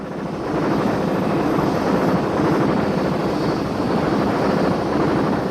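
An AH-1G Cobra attack helicopter flies past with a steady, loud broadband engine and rotor roar that holds constant throughout, slightly muffled by wind on the microphone, with no voices.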